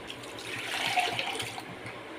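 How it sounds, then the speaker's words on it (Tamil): Water, saved from boiling chickpeas, is poured into a washed mixer grinder jar, a soft close trickle and splash lasting about two seconds, quiet and alone. "மிக்ஸி ஜார் கழுவி தண்ணி சேர்த்திக்கலாம்"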